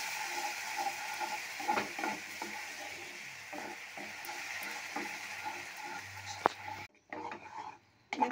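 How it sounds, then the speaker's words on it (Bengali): A spoon stirs fresh cream into hot caramel sauce in a pan, with soft scraping and clinks over a low bubbling sizzle. The sound drops out briefly near the end, then resumes. "এবার আমি এর মধ্যে কিছুটা পরিমাণ ক্রিম দিয়ে দিলাম। এবার এটা আমি নাড়া দেবো।"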